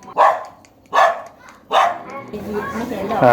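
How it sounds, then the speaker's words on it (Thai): A Bangkaew dog barks three times in a sharp, loud, evenly spaced series close by, followed by rustling and low background noise. "มันเป็นสุนัขพันธุ์บางแก้วนะครับ ก็ค่อนข้างจะดุนะครับ"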